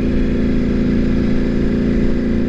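A Ducati V4 motorcycle engine while riding, a loud steady droning hum with wind rush, held at an even pitch throughout without any pause or sharp change.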